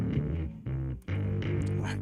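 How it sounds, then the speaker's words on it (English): A heavily distorted bass plays through an Orange bass amp, giving thick, fuzzy sustained notes in two loud bursts broken by a short gap, with no talking. "I can't believe how distorted this is."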